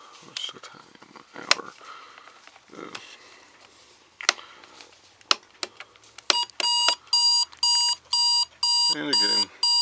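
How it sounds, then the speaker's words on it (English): Spartus model 1140 Apollo digital clock alarm ringing in loud, evenly spaced electronic beep bursts during the final few seconds, after a stretch of handling clicks and faint talk. "let's do alarm."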